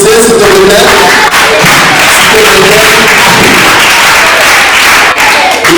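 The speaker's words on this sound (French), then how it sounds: "Applaudissez, s'il vous plaît." Loud, saturated applause from a theatre audience in Congo, continuous dense clapping with crowd noise filling the whole stretch, no clear voice above it.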